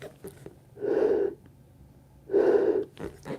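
Two rescue breaths delivered during an infant and child CPR training demonstration, each a soft, airy breath of about half a second, separated by a pause, with faint handling sounds around them.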